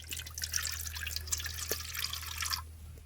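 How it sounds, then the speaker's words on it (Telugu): Water is poured in a thin trickle for aloo chapati dough, a faint, close splashing and dripping that runs steadily for a couple of seconds before stopping, over a low hum. "మనం ఆలు చపాతీకి ఫస్ట్గా కొద్దిగా నీళ్ళు పోసి"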